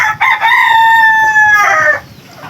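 A rooster gives one loud, close crow, a long drawn-out call that rises and holds before cutting off, with quiet background afterward.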